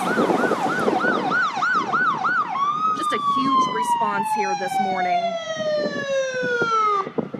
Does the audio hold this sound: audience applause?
no